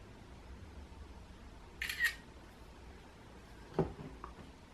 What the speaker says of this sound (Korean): 사진 찍어야지.